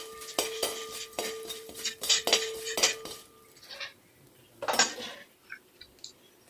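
A spoon stirs urad dal and raw rice through sambar masala in a pan, giving a run of quick scraping clinks over about three seconds, then a few scattered scrapes and taps.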